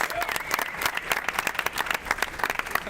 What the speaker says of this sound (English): get a round of applause, guys